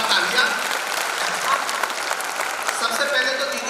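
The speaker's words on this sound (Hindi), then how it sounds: "एक बार जोरदार तालियां।" An audience at a Hindi poetry recital breaks into loud, sustained applause, with steady clapping filling the hall and a few voices mixed in.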